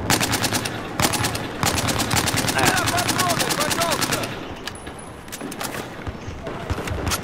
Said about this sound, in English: He just got an assault rifle this time.